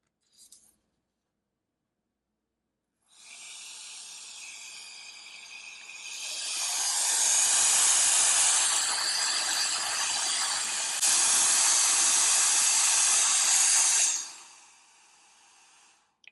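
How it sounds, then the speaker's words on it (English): Roedix R8 Mini wireless compressed air duster blasting through a very small nozzle: a steady, loud rushing hiss starts, swells stronger partway through, holds for several seconds, then drops to a softer hiss and cuts off. "There's quite a bit of air coming out there."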